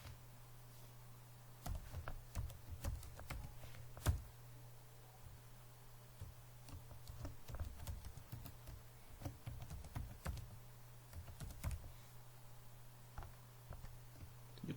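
Computer keyboard typing while entering a password, a quiet run of light, irregular key clicks over a steady low hum.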